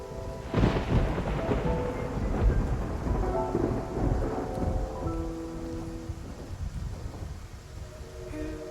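A thunderstorm with heavy rain at sea in the video game Love and Deepspace, with loud rolling thunder rumbling over a dense, steady downpour for several seconds, with no talk.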